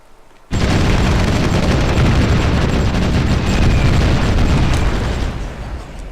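Artillery fire in Supreme Ruler Ultimate arrives as a sudden loud boom that spreads into a sustained, rumbling roar, slowly easing near the end.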